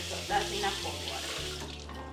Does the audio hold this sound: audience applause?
no